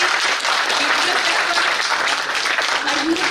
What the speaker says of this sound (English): a huge round of applause to all the student volunteers present over here